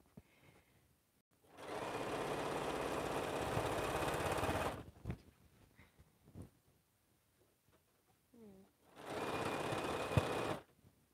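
A home sewing machine stitches an African-themed quilt in a small space, running in two steady bursts of about three and two seconds, separated by quiet handling noises and small clicks.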